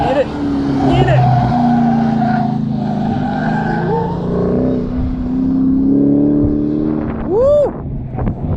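An Acura Type S, said to sound like the Type R, runs fast at an autocross event, its engine roaring and revving steadily and loudly nearby, with a short tire squeal near the end and people shouting and cheering over it.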